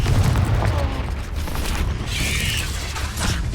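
A booming spell explosion in the game Hogwarts Legacy, a loud rumbling burst with crackling debris that decays over a few seconds, with no talking.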